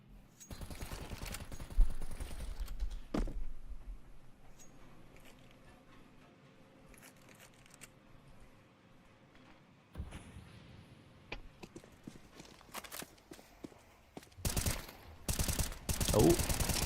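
Rifle and SMG fire in a Counter-Strike match, heard as bursts and rapid volleys of shots with clattering in-game noise between them, loudest near the start and again toward the end.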